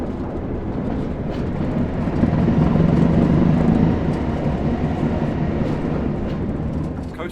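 A locomotive on the Tees Valley Line in the game Train Sim World 2020 rolls along with a steady, loud engine rumble and continuous rail noise, swelling slightly as power is applied.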